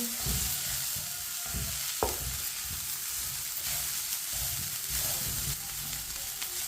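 Chicken kabab mixture sizzles and fries in a pan, a constant bright hiss with low stirring scrapes and one sharp clink of a utensil against the pan, close by.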